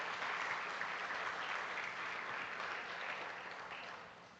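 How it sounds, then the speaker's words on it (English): Steady audience applause at a startup summit, a dense wash of many hands clapping together that holds evenly for several seconds before thinning slightly at the end. "Could we just have a round of applause for them?"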